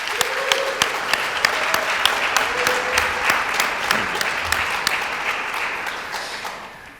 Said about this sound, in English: we deserve to give Sasha a great round of applause